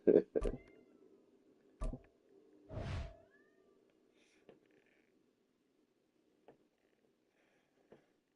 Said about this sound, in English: my cat Ginger's back